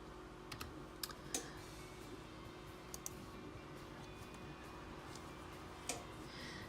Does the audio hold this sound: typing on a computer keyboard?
yes